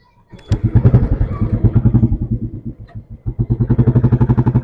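A Royal Enfield Standard motorcycle fires up and idles nearby with a loud, pulsing thump, a brief dip and then a renewed steady beat.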